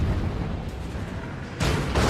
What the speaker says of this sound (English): Finally, you're able to use my armor-piercing rounds like I've been wanting to all match.